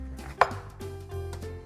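A kitchen knife slices a zested lemon in half, one sharp close chop against a cutting board followed by a couple of softer taps, with a low steady hum underneath.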